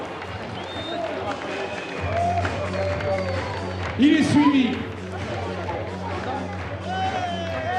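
Crowd applause and cheering at a professional rugby team presentation, a steady broad wash of clapping under an announcer's amplified French voice calling out player numbers, with a louder burst midway.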